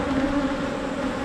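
Honey bees buzz around an open hive during a late-July frame inspection, a steady close droning hum with no pauses across the short stretch.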